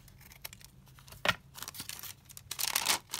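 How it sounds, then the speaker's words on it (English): Scissors cut through cardboard from Amazon packaging in a few short snips and tearing crinkles, close and fairly quiet, with no talking. "So I just cut the bottom off of it and then just cut it down here."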